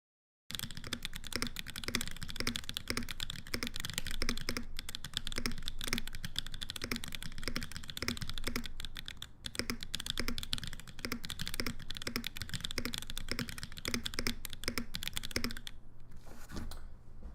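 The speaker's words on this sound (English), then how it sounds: "Let's give her a proper typing test." Fast, steady clatter of keys on a custom-built mechanical keyboard during a typing test, a dense close run of clicks lasting about fifteen seconds before stopping.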